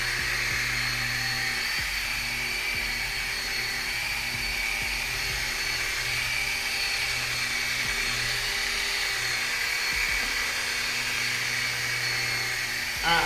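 A car detailing polisher runs steadily at its lowest speed setting with no pressure applied, a continuous high-pitched electric whine with a low motor hum that holds level throughout, close and loud, with no talking over it.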